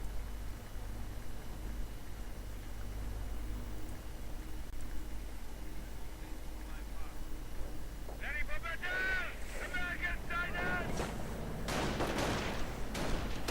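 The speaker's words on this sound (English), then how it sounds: "Rifleman getting gunned down." World War II strategy video game combat, with scattered rifle and machine-gun fire that builds into denser bursts toward the end. It plays faintly under continuous commentary.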